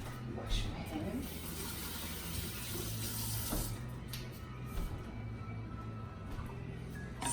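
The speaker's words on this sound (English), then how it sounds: "Wash my hands." Tap water runs steadily into a sink as hands are washed in a home kitchen during cooking, a continuous splashing hiss with faint voices or clatter underneath.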